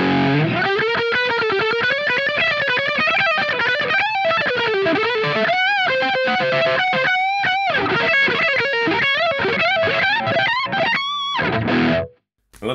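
An electric guitar runs through a Boss Mega Distortion pedal with the drive eased back, playing a continuous, loud, saturated melodic phrase for about twelve seconds before cutting off abruptly near the end.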